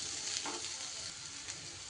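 A soft, steady sizzle of turmeric, coriander and cumin powder frying in a pan, with a faint stir or two and no talking.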